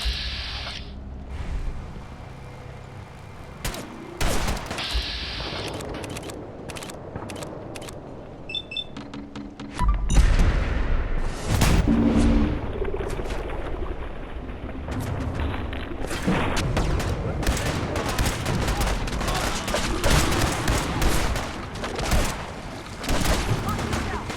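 Firefight in Fallout 4: Far Harbor, with scattered gunshots, bursts and booms rising into heavier continuous shooting, mixed with game voices and effects.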